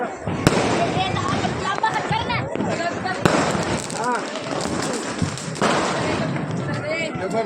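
Diwali firecrackers burst on a rainy night, sharp cracks and booming thumps scattered irregularly, some loud and near, others distant, with people talking and shouting throughout.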